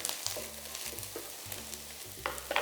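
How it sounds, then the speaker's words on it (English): Grated ginger and garlic fry in a pot for a one-pot chicken curry, soft sizzling with repeated stirring scrapes and a low rhythmic rumble underneath, no talk. "And just cook that for 30 seconds. You don't want the ginger and garlic to burn."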